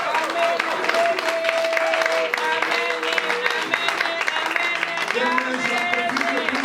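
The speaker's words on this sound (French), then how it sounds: "Est-ce qu'on peut acclamer pour le Seigneur?" A church congregation at a wedding service applauds and cheers for the Lord, steady clapping and crowd voices filling the room with a continuous roar and sung or shouted tones over it.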